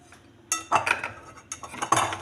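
Whisking cake batter of yeast, cocoa and chocolate in a bowl with a utensil, heard as a few short clinking scrapes and knocks of metal on the dish, close and fairly quiet, with no voices.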